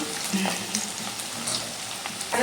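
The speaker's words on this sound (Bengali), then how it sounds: "আমি এখন শুধু এই নাড়াচাড়া করছি" Khichuri stirred in a pot, with a continuous bubbling sizzle and soft scraping stirs that stay close and steady throughout the short stretch.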